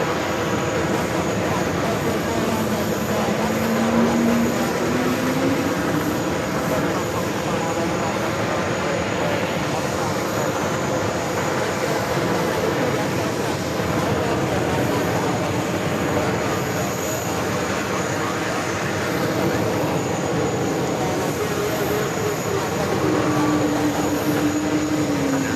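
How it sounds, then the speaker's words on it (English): A jet airliner taking off at JFK airport in New York, a steady broad engine roar that holds loud and continuous throughout, with faint rising tonal whines near the start and end. "Beautiful takeoff."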